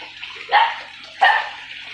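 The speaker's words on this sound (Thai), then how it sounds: "หัวจ่ายน้ำในหัวสิบหกมิลนะครับ" Water pours from a 16 mm outlet into a concrete fish tank holding tilapia, coming as two loud splashing surges over a quieter steady flow.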